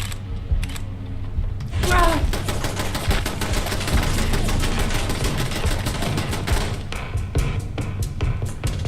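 Gun turret in the video game Fallout London firing rapid, continuous bursts of loud automatic gunfire, with clattering game effects mixed in and a voice talking over it.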